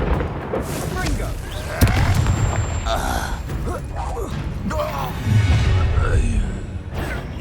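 A Confringo blasting spell explodes in Hogwarts Legacy, booming bursts landing amid a busy mix of combat effects and mechanical clatter, with voices speaking over the fight.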